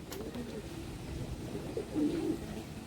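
Domestic pigeons coo softly in a home loft, a low murmuring call rising briefly toward the end amid faint room noise.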